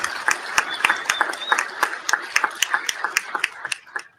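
A council chamber audience at a City of Norwalk meeting gives a round of applause for social services workers: dense, steady clapping from many hands, close and lively, sustained for about four seconds before it thins out.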